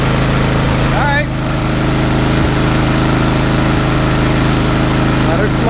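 A Craftsman lawn mower with a Briggs engine runs steadily and loudly while it smokes, a continuous low droning hum throughout with a brief dip near the start.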